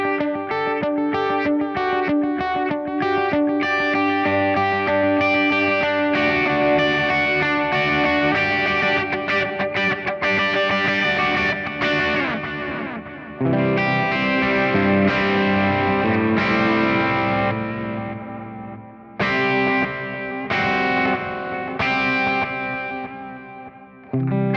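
Electric guitar played clean through a Kemper Profiler with tape delay modulation, sustained chords and notes carrying wavering, repeating echoes, loud and continuous with a few brief gaps.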